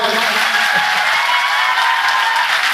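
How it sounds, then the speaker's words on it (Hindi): Audience applause at a storytelling program on Uttarakhand, a loud, dense, unbroken roar of many hands clapping together, sustained evenly across the whole span. "अगर अच्छा लगा हो तो जोरदार तालियां हो जाएं भाई।"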